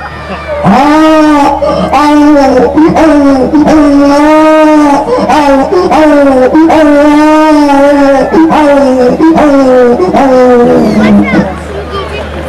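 A loud human voice mimics a donkey's bray, with repeated rising and falling hee-haw cries in a continuous stretch, over a background murmur of a crowd.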